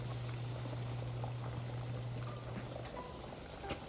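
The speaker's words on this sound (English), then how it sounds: "once the pot of water is boiled, we are going to get some table salt and salt the water." A pot of water for spaghetti boils on the stove with a soft, steady bubbling and crackling, quiet and continuous with a low hum underneath.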